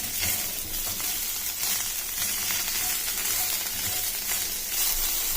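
Okra fries in a non-stick kadai with a dense, continuous sizzle and crackle, close and fairly loud, with no voices.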